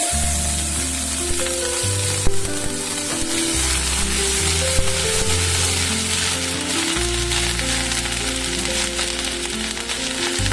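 Cumin seeds fry in hot butter in a home kitchen pan, giving a steady, close sizzle and crackle that runs without a break, with occasional soft stirring clatter.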